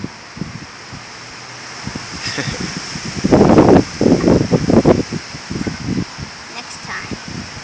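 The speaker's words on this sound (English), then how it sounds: "It's too windy out today." Wind blows outdoors on a gusty day, rumbling and buffeting against the microphone and swelling into stronger gusts midway, with rustling and faint voices mixed in.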